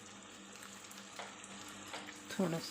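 Water poured into a hot pan of chicken karahi sets off a soft, steady sizzle and bubbling, fairly faint, with someone speaking briefly over it.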